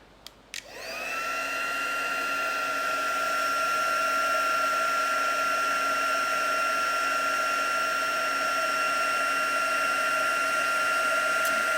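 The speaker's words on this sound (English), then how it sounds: "So now I'm just going to heat set that quickly." A heat gun heat-sets embossing powder on a handmade card, clicking on and then blowing a steady, loud, high-pitched whine with a constant airflow hiss that runs unbroken for over ten seconds.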